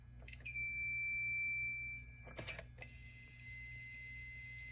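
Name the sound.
fire alarm annunciator beeping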